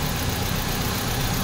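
A Suzuki Solio engine with an automatic transmission and an auto-shutdown fault runs rough with one injector connector unplugged, giving a steady, close, shaky idle rumble.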